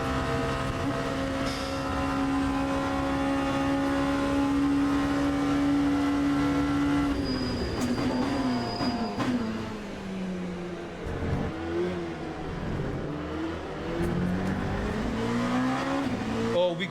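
An LMP2 prototype race car engine drones at high revs in a racing video game, holding steady, then dropping and climbing through gear changes and throttle lifts with faint tire noise, continuous and close throughout.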